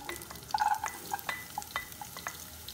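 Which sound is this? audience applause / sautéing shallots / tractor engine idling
sautéing shallots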